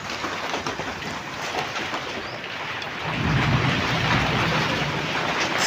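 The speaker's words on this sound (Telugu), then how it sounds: "మా ఇల్లునైతే ఇలా వర్షం పడేటప్పుడు చూపిద్దామని వీడియో తీసి పెట్టానండి" Steady rain falls on a house, a dense broadband hiss that holds constant and then grows heavier and louder partway through, with no voices.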